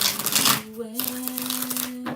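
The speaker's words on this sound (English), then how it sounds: "3 more shuffles." Oracle cards are shuffled in a brief, dense papery riffle at the start, then quieter handling under a steady low musical drone.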